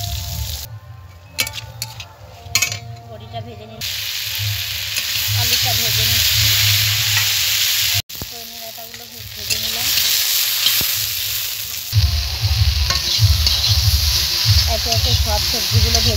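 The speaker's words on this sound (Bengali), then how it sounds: "বেগুনটা ভেজে নিচ্ছি," Eggplant frying in a pan during home cooking, a loud close sizzle with stirring scrapes and clatter, broken by a short pause, then renewed bursts of rhythmic hissing.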